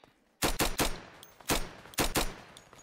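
Gunfire from the Flag Wars video game comes in loud, sharp bursts of rapid shots, several clusters of two or three cracks spread across the moment, with no talking.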